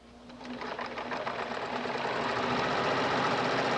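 A Brother VX1010 sewing machine stitches a buttonhole, running as a steady, close, rapid mechanical whir with a rhythmic needle chatter that rises and then holds at a constant level.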